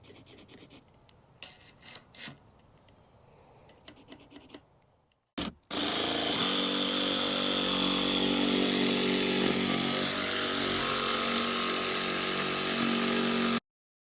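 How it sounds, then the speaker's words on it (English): A small DeWalt jigsaw starts after a few taps and handling sounds, then cuts with a loud, continuous buzzing rasp for about seven seconds before stopping abruptly. "This is my little DeWalt jigsaw."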